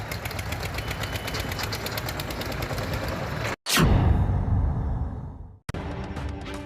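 Farmers' tractors drive in a Republic Day rally in Delhi, giving a loud rapid chugging engine rattle that cuts out briefly, then a heavy rushing roar passes close by and drops to near silence before the rattling returns.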